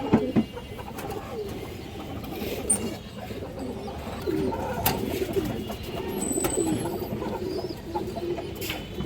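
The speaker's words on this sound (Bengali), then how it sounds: "এই দেখেন একদম সুস্থ সবল কবুতর।" Khoragola pigeons, an older bloodline kept in a loft, cooing in soft low repeated phrases nearby, with light rustling and faint flutters and no talk.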